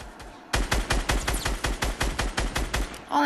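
Rapid automatic gunfire in the Fortnite video game, a steady burst of about a dozen sharp, evenly spaced shots fired loud and close, with no talk over it.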